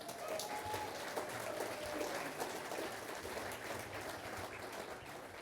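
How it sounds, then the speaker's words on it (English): Audience applause at a Georgia PGA awards banquet, a steady wash of many hands clapping, faint and distant, held evenly throughout without speech. "Give them a round of applause."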